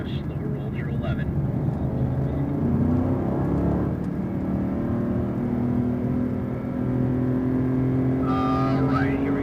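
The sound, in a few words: AMG car driving a lap at Circuit of the Americas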